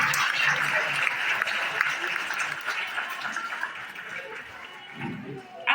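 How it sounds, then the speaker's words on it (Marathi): An audience at a school prize ceremony applauds in a steady, dense wash of clapping that slowly fades, with a voice audible beneath it. "सगळ्यांनी एकदा जोरात टाळ्या वाजवा."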